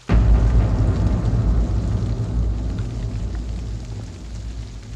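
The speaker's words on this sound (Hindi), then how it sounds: "बाहर बहुत बारिश हो रही है" Heavy rain pours steadily outside on an evening, a dense, continuous rumbling wash with deep low thunder-like weight, loud and unbroken for several seconds with no voices.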